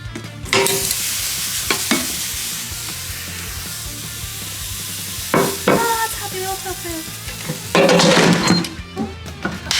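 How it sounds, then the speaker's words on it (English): Steady sizzling and crackling of food frying in an air fryer, with a few sharp clanks and bursts of louder spattering, no talking. "Listen to the sizzle."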